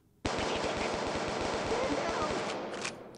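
Bushmaster gun in the Kick the Buddy mobile game firing a rapid, continuous burst of loud automatic shots for about two seconds, then trailing off as the volley ends.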